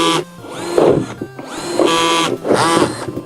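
A borrowed power drill whirring in repeated short bursts, rising and falling in pitch over several seconds while building a DIY production cart.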